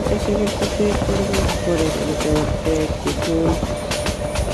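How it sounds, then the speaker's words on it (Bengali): A Bangladesh Railway 300 series locomotive overtakes a train with a steady loud rumble and rhythmic rail clatter close by, while a voice talks over it throughout. "এই মুহূর্তে ইঞ্জিনটি রকেট টান দিয়ে ট্রেনটিকে ওভারটেকের জন্য চলে যাচ্ছে"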